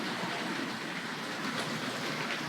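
Hornby Dublo West Country Class model locomotive "Dorchester" running on its track, a steady close whirring rumble with faint rail clatter, continuous with no talking.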